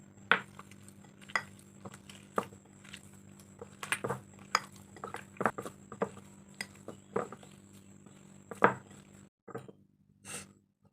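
Chitoi pitha rice batter being stirred and mixed with warm water in a bowl, a steady run of soft clinks and scrapes of a utensil against the bowl with no voices.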